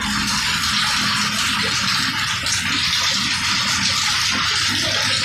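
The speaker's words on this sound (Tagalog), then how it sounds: "Sa gitna, tuloy yung tulo." Rainwater pouring and dripping through a badly fitted galvanized iron roof, a continuous hissing splash with steady trickling underneath, close and fairly loud, with no pauses across the whole stretch.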